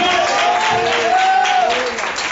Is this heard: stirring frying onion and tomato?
no